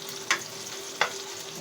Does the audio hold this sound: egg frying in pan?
yes